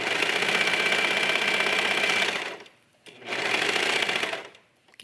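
A sewing machine stitches a jogger pocket with a quarter-inch seam allowance in two bursts of steady, buzzing whir, each about two seconds, separated by a brief pause.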